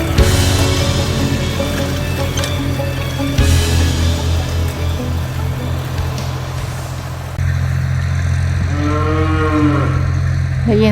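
A cow moos loudly and close by over a steady engine drone, with a second drawn-out moo rising near the end.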